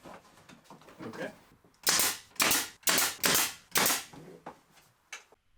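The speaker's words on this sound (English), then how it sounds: "With the top bits installed, I could start nailing in the lower molding pieces" Pre-finished lower molding pieces being nailed in place in an office, a series of six or seven sharp, loud pops from a nailer in an uneven rhythm, preceded by fainter handling sounds.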